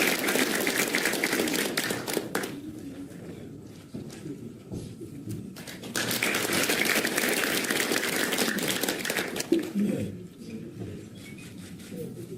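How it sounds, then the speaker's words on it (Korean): Guests at a New Year gathering applaud as a speaker is welcomed to the stage, a sustained round of clapping that briefly thins and then swells again, with faint voices underneath. "큰 박수로 맞이해 주시기 바랍니다."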